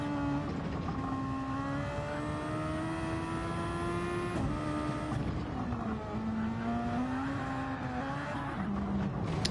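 Race car in Gran Turismo 7 spinning off and kicking out before lightly tapping a wall, engine droning loudly throughout with shifting revs and pitch drops, no talk.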